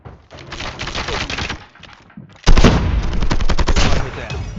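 Rapid bursts of automatic gunfire from Call of Duty Mobile, loud and close, with a dense crackling volley that pauses briefly and then resumes heavier and sustained.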